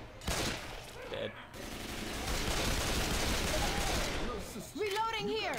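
Rapid bursts of gunfire from a Left 4 Dead 2 zombie shooter session, sustained fusillade of overlapping shots dominating the middle stretch, with brief quieter gaps and voices chattering at the start and end.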